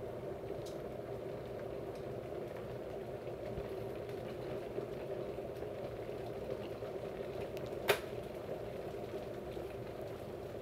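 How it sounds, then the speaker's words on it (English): Water boils at a steady rolling churn in a pot with two phones submerged in it during a hot water test, with one brief sharp click near the end and no talking. "Water is now boiling."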